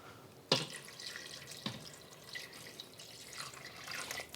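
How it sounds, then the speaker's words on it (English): Water runs into a pot of pork bone soup for bak kut teh as the pork is covered, a steady gushing pour that starts with a sudden splash and continues faintly and close, with no talk. "I want to add just enough water so that everything is covered."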